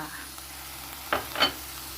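Carrots stir-fried with blended tomato in a pan for lasagna sauce, a soft steady sizzle broken by two brief scraping stirs of a utensil close by.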